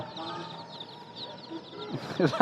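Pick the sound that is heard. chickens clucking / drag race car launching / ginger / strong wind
chickens clucking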